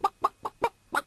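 A chicken clucks five times as a sound effect, in short evenly spaced clucks, close and clear with nothing else under them.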